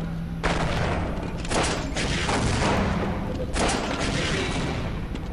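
Rapid video-game gunfire crackles in dense, sustained bursts with short pauses, loud and close, while a commentator talks over it.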